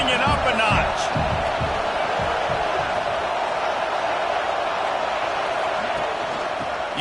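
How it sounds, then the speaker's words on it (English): A football stadium crowd roars loudly and steadily during a game, a dense, sustained wall of noise that someone commentator talks over at the start. "this crowd is turning it up a notch"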